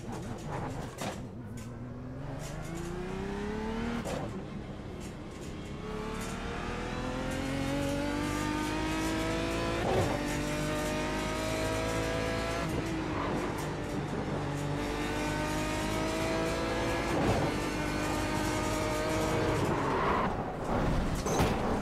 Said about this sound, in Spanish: Vamos a darnos aquí una vueltecita en Canadian Tire con el Aston Martin DB9 GT1